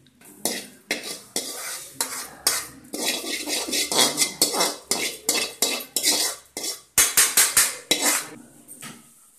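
Roasted ingredients blackened in a pan are scooped out onto a plate, with a rapid series of loud close metal scrapes and clanks of a spoon against the pan over a faint sizzle.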